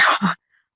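A single short, sharp sneeze bursts out close to the microphone and stops abruptly, leaving silence after it.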